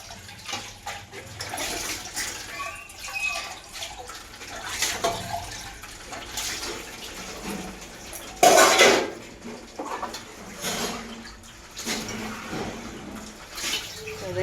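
Pots, plates and utensils being washed by hand with running water, irregular close clinks and clatters of metal vessels, one loud bang midway, and faint voices in the background.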